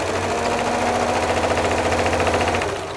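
A sewing machine stitches a quilt block, giving a close, steady rapid whir of needle strokes with a fast regular pulse. It runs continuously for about three seconds and eases off slightly at the end.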